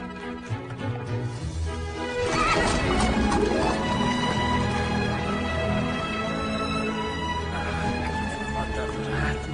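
A horse neighs loudly in a dubbed Hindi-language action film scene set in England, with hooves clattering on a street, under busy music and other noise for most of its length.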